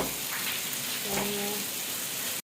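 Steady rain patters in a continuous hiss, with a brief voice-like murmur partway through, before cutting off abruptly.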